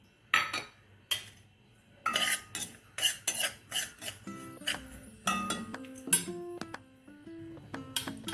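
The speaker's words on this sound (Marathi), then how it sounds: "आता हे खसखस आपण घेतलेले आहे ते सुद्धा आपण भाजून घेणार आहोत." Poppy seeds being dry-roasted in a kadhai with a metal spoon, heard as close, irregular scraping and clinking strokes against the pan, with light tapping throughout and no talking.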